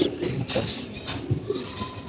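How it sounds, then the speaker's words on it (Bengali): Soft baby pigeon coos and low murmuring calls sound close by, with scattered rustling and faint background noise throughout. "এই দুটা বাচ্চা কবুতর দেখতে পাচ্ছেন দুটা আমার"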